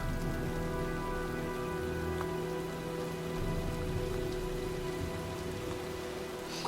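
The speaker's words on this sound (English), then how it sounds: "looks like a storm's coming." Steady, continuous rain of a storm in the video game Heavy Rain, pattering evenly on surfaces throughout with no voices, holding at a constant level as thunder hovers only faintly in the background.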